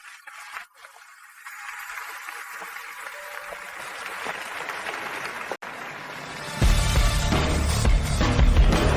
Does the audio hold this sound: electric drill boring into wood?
no